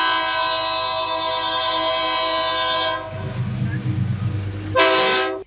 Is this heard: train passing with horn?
yes